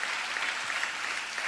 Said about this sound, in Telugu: చప్పట్లు కొడితే యేసయ్యకు స్తోత్రాలు.